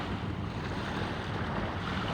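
Sea waves wash continuously onto the shore, a broad steady roar mixed with wind rumbling on the microphone, close and fairly loud with no voices.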